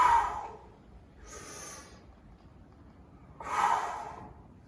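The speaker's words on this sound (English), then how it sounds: "Once again, working like a bellows to push things out of the lung" Forceful bellows-style breathing exercise, with three sharp, breathy exhalations pushed out through the nose and mouth at uneven intervals, close and fairly loud against a quiet background.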